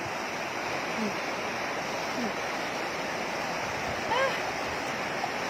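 Steady broadband rush of a flowing stream, continuous and fairly close, with faint voices now and then underneath.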